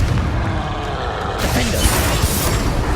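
A Confringo blasting-spell explosion in the wizarding action game Hogwarts Legacy erupts as a sudden loud burst about midway, filling the mix with bright crackling energy over a steady low rumble of combat.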